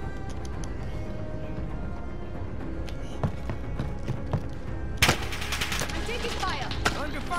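Gunfire in Call of Duty, with scattered shots and short automatic bursts under a steady game background, then a louder, brighter volley near the end.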